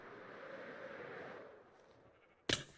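A pink sheep in a video game bleats in a drawn-out, fairly faint call that fades away, followed by a sudden sharp burst near the end.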